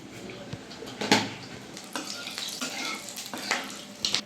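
Whole garam masala and cumin dropped into mustard oil in a wok, a moderate sizzle with crackles and scattered metallic clinks of utensil against pan.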